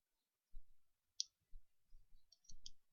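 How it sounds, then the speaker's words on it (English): A brush pen's nib section is twisted clockwise to engage its cartridge, giving one sharp, close click amid a few soft handling bumps, with a couple of lighter clicks near the end. "Twist the nib section clockwise to engage the cartridge."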